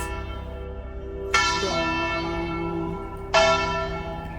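An old church bell tolls slowly, two heavy strikes about two seconds apart, each blooming into a long ringing hum that echoes and fades without fully dying away.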